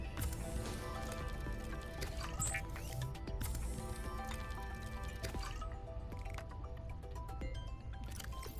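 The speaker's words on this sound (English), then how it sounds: "I hate that drinking sound." The drinking sound effect from the video game Subnautica: Below Zero plays as wet, squishy gulping noises, repeated and continuous over a busy game soundscape.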